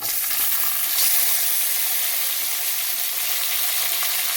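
Chopped ingredients for a soya paneer curry frying in hot ghee in a pan: a loud, dense, continuous sizzle that crackles evenly throughout with no voices.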